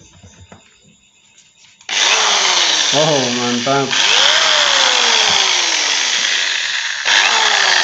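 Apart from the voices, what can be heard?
electric drill powered by Taffware 1000W inverter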